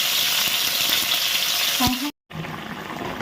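Fish frying in a pan gives a loud, close, continuous sizzle, briefly cut off by a short silent gap before it resumes.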